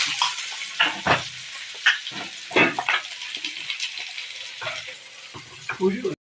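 Chopped onion frying in a pan of oil after mustard seeds have popped, with a soft sizzle and scattered louder bursts as the pieces are stirred or moved, fairly close.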